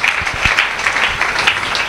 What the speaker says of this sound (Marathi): म्हणून तुम्ही टाळ्या वाजवून प्रभूला धन्यवाद द्या